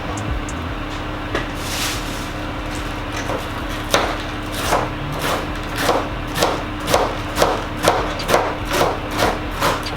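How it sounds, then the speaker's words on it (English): A knife cuts pap chow into small pieces on a board, the slow chops becoming a steady run of crisp, evenly spaced thuds after the first few seconds, close and clear over a constant low hum. "I'm going to be slicing up my pap chow in nice small sizes"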